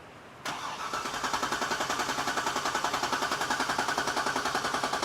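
A Chevy Corvette engine with a low-power fault cranks in a steady rapid rhythm of starter pulses, then catches and runs on, loud and close, with no talk over it.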